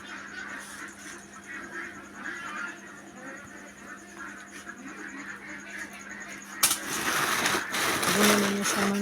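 A flock of farm ducks quacks repeatedly while being fed soaked commercial feed, the calls near and busy, with a louder burst of splashing, clattering noise toward the end.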